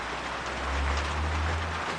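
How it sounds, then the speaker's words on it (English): Steady rain heard outdoors, a broad continuous hiss with a low rumble underneath, fairly loud and even throughout with no talking. "Listen to that rain."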